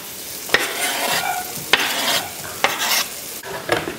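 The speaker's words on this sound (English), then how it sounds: "A little bit of olive oil. Onion in the hot pan." Chopped onion sizzles in a hot pan with olive oil, broken by sharp scrapes and clacks of a utensil stirring every second or so; close and lively, with no voices.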